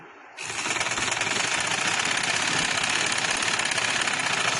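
A sewing machine starts abruptly after a brief quiet moment and then runs steadily, stitching a trouser with a fast, even mechanical chatter up close and loud throughout.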